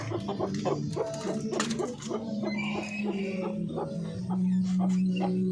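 Parawakan chickens cluck and call in repeated short, throaty bursts, some overlapping, with a steady low background hum and no clear speech.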